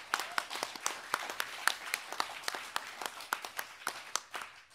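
An audience applauds with sparse, individual claps that come irregularly, fairly faint and distant, with no talk over them.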